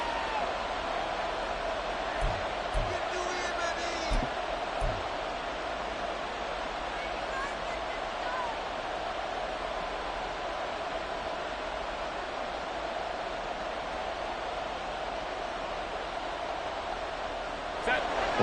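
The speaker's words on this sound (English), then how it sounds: "The crowd getting into it as we come up on a big 3rd down" Steady crowd roar from a stadium in the Madden football video game, a constant broad wash building for a big third down, with a few faint thuds early on.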